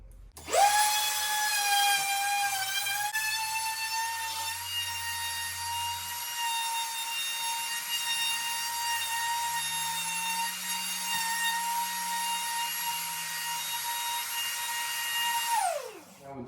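A power tool bit cutting into old wooden doors while depth-setting for hinge work, a steady high whine with strong harmonics running about fifteen seconds, close and loud, with a low rumble underneath and no talking.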